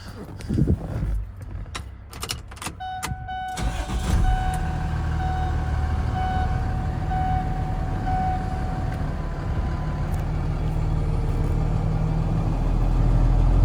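A few clicks and a dashboard chime, then a 2015 Ford F-750 box truck engine cranks and settles into a steady, loud diesel idle that continues to the end.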